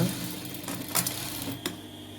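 A sewing machine runs steadily while putting in a double line of stitching along a sleeve seam, a close, even mechanical whir with a couple of brief louder clacks, no voices.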